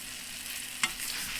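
Thai chili salmon sizzles softly in hot oil in a pan, a faint, steady frying hiss with a single brief clatter near the middle.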